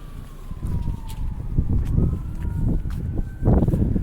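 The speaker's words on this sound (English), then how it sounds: "That sounds like an ambulance." An ambulance siren wails in the distance, its tone sliding slowly, beneath louder nearby traffic rumble and clatter.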